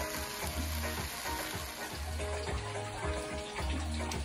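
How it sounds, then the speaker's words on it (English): Water poured into a pot of edoes stew cooking on the stove, a steady faint rush and sizzle with some stirring, heard alone without talk. "I'm just gonna add some water to cook it on just above the edoes"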